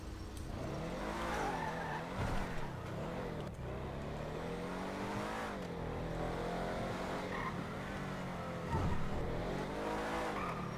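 An Annis Hellion car engine in GTA Online drones and revs continuously, pitch sweeping up and down through gear changes, with tire squeal at moments.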